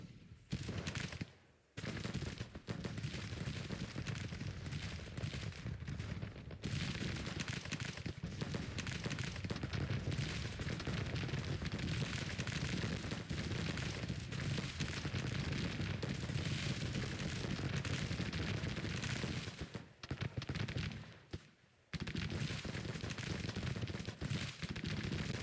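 Heavy Civil War battle fire from Grand Tactician: The Civil War, a sustained roar of fusillades and rattling machine guns mixed with artillery booms, loud and nearly unbroken, dipping briefly twice before resuming.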